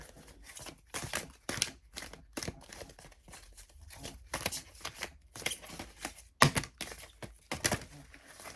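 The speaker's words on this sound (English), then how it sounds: "These cards are massive and so hard to shuffle" Large tarot cards are shuffled by hand in repeated bursts of riffling, slapping and crackling card stock, close and fairly quiet with short pauses between bursts and no talk.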